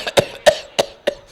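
Four quick, harsh coughs in an even rhythm, close and fairly loud, with brief silence between each.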